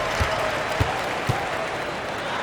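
Crowd noise in an NBA 2K25 basketball game, a steady broad roar of applause and cheering that fills the whole stretch, with a few low thumps standing out.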